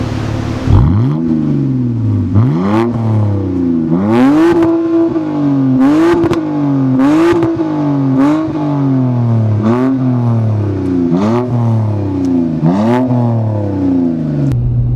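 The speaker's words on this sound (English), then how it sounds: "It has that classic inline 6 sound." A BMW 330i E90 inline-six engine revs repeatedly, climbing and dropping in pitch in a steady rhythm of throttle blips, loud and close with no talk.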